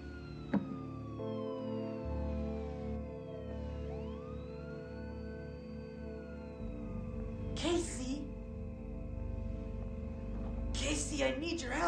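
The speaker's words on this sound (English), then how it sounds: "I think that was a police car." Police car siren wailing at a distance, rising and falling in long sweeping tones across the whole stretch, with a low engine-like rumble beneath and a few sharp bursts of noise near the end.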